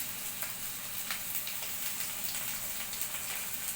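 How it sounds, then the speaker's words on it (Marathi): Onion, tomato and green chillies sautéing in a spoonful of oil in a pan, a soft steady sizzle with faint crackles, quiet and even, no talking. "आणि काजू हे आपण छान आता परतून घेणार."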